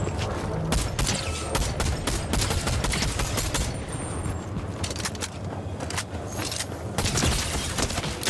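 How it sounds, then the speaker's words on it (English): Rapid gunfire and blasts from a goo weapon in a video game, as the goo is fired at an opponent and blows up; dense, continuous bursts fill the whole stretch with no pauses. "I just shot my goo in that guy's face and it blew up"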